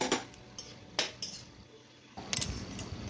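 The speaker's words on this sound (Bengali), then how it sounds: "গ্যাসের আঁচটা মিডিয়ামে রেখে আর অল্প কিছুক্ষণ ভালো করে নাড়াচাড়া করলেই আমার রান্নাটা একদম রেডি হয়ে যাবে।" Spoon stirring ash gourd and coconut curry in a cooking pan, several distinct metallic clinks and scrapes at close range separated by quieter stretches of low background noise, no talking.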